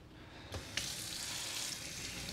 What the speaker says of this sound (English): Let's wash the machine up